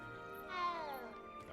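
A cat meows once in the Hogwarts Legacy video game, a drawn-out falling cry, fairly faint, over quiet background sound, with a voice nearby.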